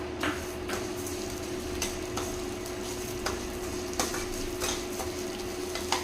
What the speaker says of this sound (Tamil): அடுத்து வந்து நம்ம சேமியா சேர்த்திக்கலாங்க. இந்த நெய்யில் நல்லா வறுத்துக்கலாம்.